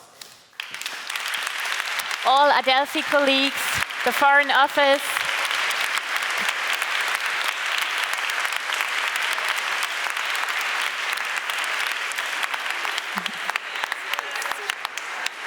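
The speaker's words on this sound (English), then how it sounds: "would like to ask everyone involved in organizing the BCSC to stand up for a big applause" Big sustained applause at a conference closing as organizers stand, steady dense clapping filling most of the stretch, with someone speaking over it near the start.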